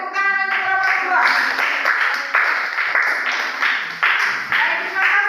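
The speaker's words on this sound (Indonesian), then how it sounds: "Beri tepuk tangan untuk kelompok 2." A classroom of students claps for a group that has just finished its presentation, a close, steady burst of many hands lasting several seconds at an even pace.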